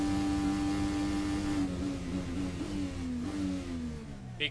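An IndyCar engine on the Toronto street circuit, a steady high-pitched whine that dips and climbs under braking and early throttle, heard from onboard and fairly loud throughout.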